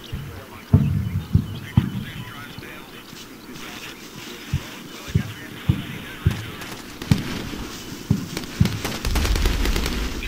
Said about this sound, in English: Taking fire from the buildings in front of me